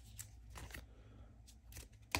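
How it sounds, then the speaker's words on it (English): Two playing cards drawn from a deck during a solo tabletop game of Marvel Champions, giving faint, brief papery slides and flicks in a quiet room. "We draw 2 cards"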